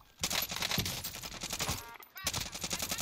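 Rapid automatic gunfire in an online shooter game rattles in dense, near bursts, with a brief pause before the firing resumes.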